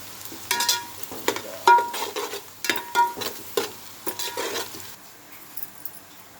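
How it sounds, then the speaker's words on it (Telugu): Mint and onion fry in a little oil for chicken biryani, with a light sizzle broken by bursts of stirring and clinks of a spatula on the pan, then easing into quieter frying at the end. "పుదీనా ఆనియన్ బాగా వేయించుకోవాలి"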